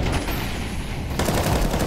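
Dense, continuous gunfire in Counter-Strike 2 during a firefight around smoke, a loud rapid rattle of shots that runs the whole time, getting heavier toward the end.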